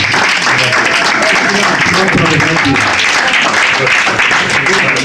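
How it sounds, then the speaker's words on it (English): Loud, steady audience applause at a spiritual talk in the Kosmon Temple in Brooklyn, a dense crowd of clapping hands running continuously for about five seconds. "Give the brother another applause."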